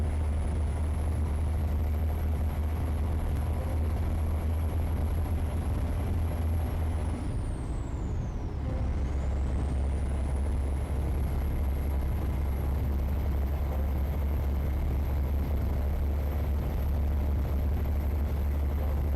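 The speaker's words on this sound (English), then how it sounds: "I wanted to try out this new engine sound" Truck engine in American Truck Simulator, a steady loud low drone with a high whine that dips and climbs again midway, heard alone.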